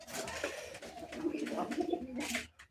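Pigeons coo in a loft, a steady run of soft, throaty warbling calls close by that carries on without a break and stops abruptly near the end.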